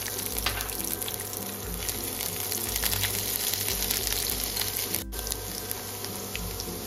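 Chopped whole garlic fries in oil beside dried red chillies in a home kitchen, giving a steady, close sizzling hiss with light crackle throughout and no talking.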